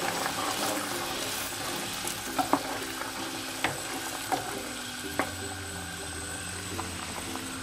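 Lentils cooking in a pot give a steady soft bubbling sizzle, with a few sharp clicks and light stirring taps scattered through, moderately quiet and without talk.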